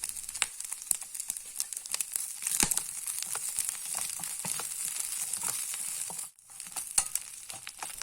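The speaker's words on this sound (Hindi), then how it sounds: "कलेजी तकरीबन फ्राई होने वाली है" Chicken liver fries in a pan with crushed red chili, a close, steady crackling sizzle with scattered pops and crisp bursts, briefly dropping away near the end before resuming.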